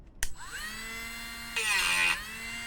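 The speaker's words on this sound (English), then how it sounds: "So I'll just sand the top of this bolt here." A small high-speed cordless rotary tool (Bauer 8V) whines steadily, then grinds louder and harsher for about half a second as a roughly 100-grit sanding drum sands the top of a metal bolt, before easing back.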